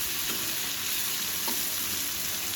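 Eggplant fries in a pan with a steady, fairly quiet sizzle and a couple of soft stirring scrapes, no one talking.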